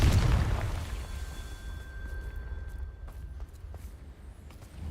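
A Confringo spell blast in a wizarding video game lands as one deep, loud boom at the very start, its rumble fading and trailing off over a few seconds.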